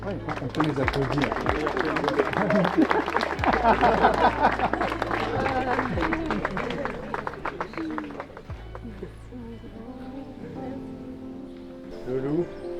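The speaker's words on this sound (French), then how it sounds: "On peut les applaudir." Wedding guests clap during a ceremony, dense applause mixed with crowd chatter that thins out partway through into scattered claps and murmuring voices.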